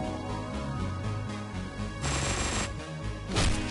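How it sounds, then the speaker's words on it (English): Dual machine guns rattle in rapid bursts in Hotline Miami 2, layered over a loud pounding game soundtrack, with a sharper flurry of shots near the end. "Yeah, dual machine gun, son."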